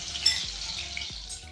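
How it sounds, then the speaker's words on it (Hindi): Chickpeas coated in cornflour deep frying in hot oil over a low-medium gas flame, a steady close hiss of bubbling oil with faint clinks of a utensil against the pan. "ऑयल गर्म हो गई है, तो अब मैं इन चनों को डीप फ्राई कर ले रही हूँ।"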